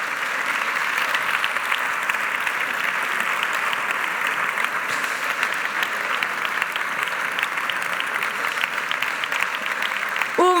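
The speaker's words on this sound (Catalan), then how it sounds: "Un fort aplaudiment per tots aquests nois i noies." Steady, sustained applause from a theatre audience, dense and even throughout, with a few faint voices near the end.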